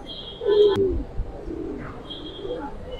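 A Giribaz pigeon coos once, low and throaty, close by, while faint bird chirps sound in the background.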